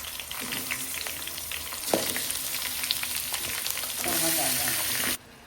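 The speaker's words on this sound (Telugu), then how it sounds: "ఇప్పుడైతే చేప ముక్కలన్నీ ఆయిల్లో వేసి ఒకసారి కలుపుకున్న తర్వాత" Fish pieces dropped into hot oil with onions fry with a steady close sizzle, and a utensil knocks and stirs them before the sound stops abruptly.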